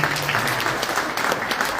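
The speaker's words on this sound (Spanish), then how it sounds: "De todas maneras, este aplauso fuerte para Aníbal." Dense, loud applause from the audience at a Guarani language and culture book event, a continuous wash of clapping heard alone.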